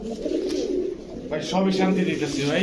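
Pigeons of fancy breeds such as Chila and Kaldam coo in a loft, a soft cooing that grows louder and fuller partway through, under someone talking.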